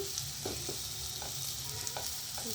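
Vegetables frying in a pan sizzle after water is added, with soft intermittent stirring scrapes over a steady, fairly quiet hiss and no talking.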